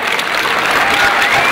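Audience at an Argentine barbecue grilling championship applauding a competing team, a loud, dense burst of clapping filling the space with no talk over it.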